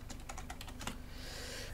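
Rapid clicking of a computer keyboard as a player types a chat message in a GTA San Andreas multiplayer roleplay game, a quick run of close keystrokes that gives way to a steady hiss, with no talk.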